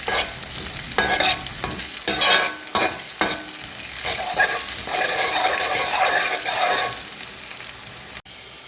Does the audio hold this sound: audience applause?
no